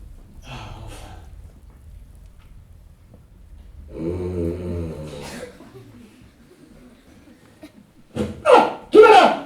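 An elderly man, a grandfather, snores close by with a drawn-out rasping inhale and a couple of louder snorts near the end, mixed with quiet breathing and brief vocal sounds.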